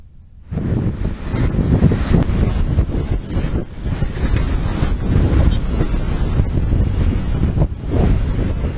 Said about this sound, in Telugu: తీరంలో ఈదురుగాలులు బీభత్సం సృష్టిస్తున్నాయి